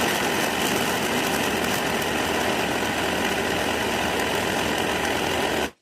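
A kitchen blender mixes a smoothie with plant-based milk, giving a steady, loud, dense whirring roar that runs continuously for several seconds before cutting off abruptly.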